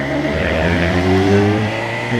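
A Suzuki GSR 750 motorcycle with a new aftermarket exhaust revs close by, a loud, steady engine drone with a brief rise in pitch in the middle before settling, no voices over it.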